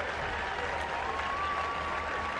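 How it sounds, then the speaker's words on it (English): Australian fans applaud steadily at a women's rugby World Cup match against Ireland, a dense, even wash of clapping from a stadium crowd with a thin whistle-like tone running through it. "Australia fans applaud the efforts of their team as well"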